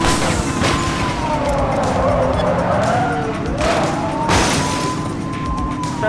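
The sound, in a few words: police car chase with skidding tires in video game The Precinct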